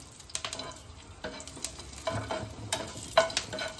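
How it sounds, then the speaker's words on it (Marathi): Green chillies and garlic sautéing in hot oil, a steady close crackling sizzle with repeated stirring scrapes against the pan, no voices. "मिरची आणि लसूण दोन्ही एकत्रच मी याच्यात टाकते।"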